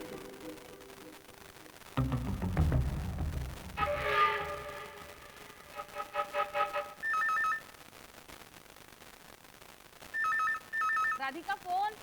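A telephone rings in repeated short electronic bursts near the end, preceded by a low rumbling passage and other indoor sounds, with speech around it in a TV crime drama scene.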